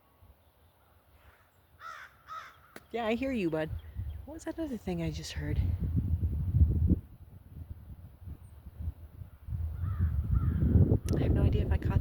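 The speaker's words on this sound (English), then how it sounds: "That's a crow." A crow caws a few times outdoors during a yard walk, the calls mixed in with someone talking nearby.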